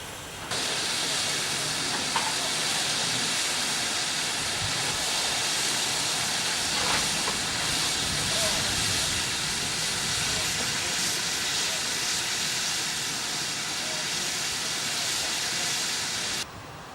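Steam locomotive 4771 stands in Ramsbottom Sidings on the East Lancashire Railway, letting off a loud, continuous broad hiss of steam that starts abruptly, holds steady for about sixteen seconds, then cuts off.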